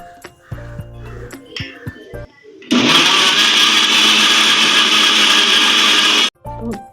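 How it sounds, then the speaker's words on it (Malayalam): Handling clicks and knocks, then an electric mixer grinder blending banana roars on, whirring loudly and steadily for about four seconds before stopping abruptly. "നമുക്ക് ഇതിനെ ഒന്ന് മിക്സിയിൽ ഒന്ന് അടിച്ചെടുക്കാം"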